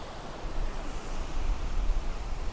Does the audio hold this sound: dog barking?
no